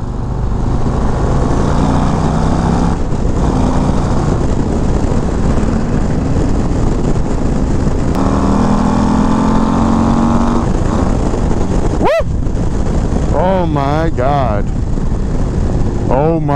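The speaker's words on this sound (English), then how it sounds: "so much power this engine is packing" A 2024 Harley-Davidson Road Glide CVO ST engine roars loudly and continuously while riding on a track, its pitch rising and falling as it revs, with rapid shifting whines near the end.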